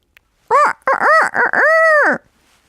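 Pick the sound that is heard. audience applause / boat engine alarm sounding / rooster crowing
rooster crowing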